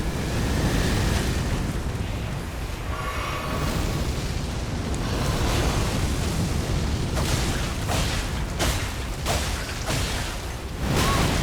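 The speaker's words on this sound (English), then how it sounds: "It's doing the explosion." A boss's explosion attack in Elden Ring Shadow of the Erdtree, a loud rumbling blast with crackling bursts and a sustained booming roar, followed by several sharp impact hits.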